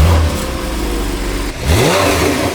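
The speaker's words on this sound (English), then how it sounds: "let's get a cold start and see what it sounds like with a stock exhaust" A Porsche 911 engine with stock exhaust cranks and catches on a cold start, then idles roughly with a brief dip before revving back up, loud and close.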